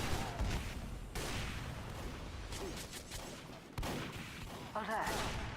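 Constant gunfire in a shooter video game match, dense overlapping shots and bursts filling the whole stretch, with sharp bangs standing out now and then and game voices mixed underneath.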